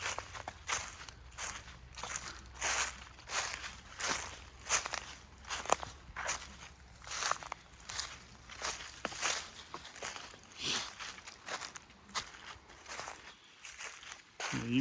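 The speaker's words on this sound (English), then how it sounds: "Walking back towards the creek now." Footsteps walk back toward a creek near Sautee Nacoochee, a steady rhythm of close crunching steps on dry ground and leaves, about two steps a second, with faint talk in places.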